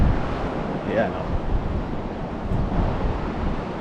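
Rough sea surf washes in at a beach resort in Laguindingan, a steady roaring wash mixed with wind buffeting the microphone while a person speaks briefly over it.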